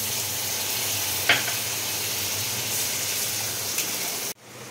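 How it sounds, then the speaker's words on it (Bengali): Water poured into a pan of frying eggs posto sets off a steady, loud sizzle that holds for several seconds, with a faint stir and spatter partway through, then cuts off abruptly near the end. "বেশিক্ষণ ভাজবো না, জল দিয়ে দিচ্ছি।"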